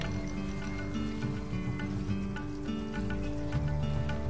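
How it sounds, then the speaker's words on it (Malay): A 12-volt electric water pump motor runs steadily off a power pack, pumping water with a continuous low mechanical hum and faint sloshing throughout, fairly close and loud. "Okay, motor hidup, pump dia hidup."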